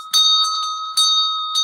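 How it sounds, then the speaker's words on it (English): A small bell on the hem of a priest's garment rings three times as a pomegranate ornament knocks against it, each clear metallic strike sustaining a pure ringing tone until the next, loud and close. "as the priest walked, the pomegranate hit up against the bell"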